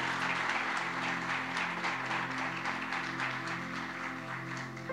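Church congregation clapping in praise during an evangelical sermon, steady dense applause holding for the whole stretch over a sustained low musical drone.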